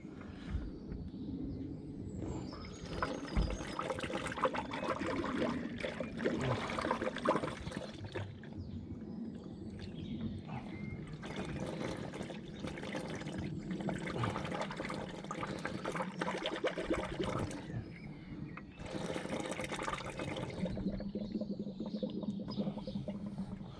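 Coolant pours steadily into the cooling system of a Saab Turbo during a flush, a continuous close liquid gurgle and splash with surges that stop and restart several times, and no talk.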